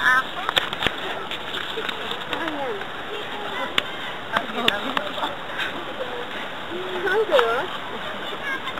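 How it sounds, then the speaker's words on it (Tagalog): Water splashes and sloshes intermittently while people bathe outdoors, with irregular near splatters scattered under ongoing chatter and shouts from several people. "Ang sarap talaga maligo, ano?"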